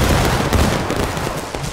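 Musket volley from soldiers in a Civil War video game, a dense, rumbling burst of overlapping gunfire filling the short moment at steady loudness, with no voices over it.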